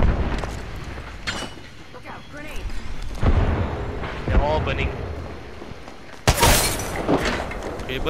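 Bombs exploding in a chaotic multiplayer video game, several booms and bursts scattered through the clip, one sharp loud blast near the end, with players talking over the action.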